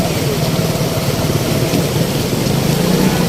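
Dense, steady hiss of heavy rain pouring down, loud and unbroken throughout.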